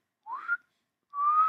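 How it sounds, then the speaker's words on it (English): Two loud, clear whistles: a short rising one, a pause, then a longer steady tone, with silence between them. "Or a very loud whistle will do it either."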